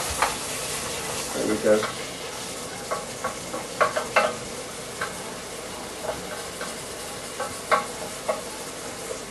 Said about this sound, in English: So just stir them up like that, because that's really going to add to the taste.